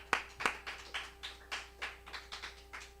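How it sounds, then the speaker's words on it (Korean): A church congregation claps during a service: a run of sharp, irregular hand claps, about a dozen over a few seconds, fairly close and alone without talk. "박수."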